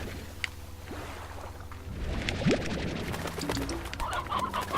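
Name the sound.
chickens clucking in the video game Slime Rancher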